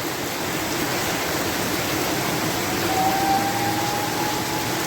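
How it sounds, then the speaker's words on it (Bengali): Heavy rain pours steadily onto a road in a village in Dhobaura, a dense, even hiss of countless drops that stays loud and unbroken throughout. "রাস্তার মধ্যে যে বৃষ্টি ফোঁটাগুলা পড়তেছে"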